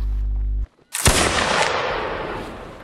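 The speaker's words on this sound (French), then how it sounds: "Tire encore au canon, quoi." A single heavy cannon blast from the Linebattle video game booms out after a steady tone cuts off, followed by a long, rumbling decay.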